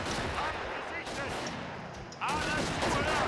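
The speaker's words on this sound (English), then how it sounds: "that grenade just landed between both squads" Gunfire and a grenade blast from the strategy video game Far East War crackle in a dense, continuous clatter of shots, with a sharper burst near the end, all under faint talk.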